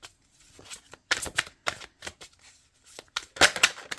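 Tarot cards are shuffled and drawn during a card reading: a run of crisp, close-up flicks and slaps, some clustered and some spaced apart, with brief pauses between them.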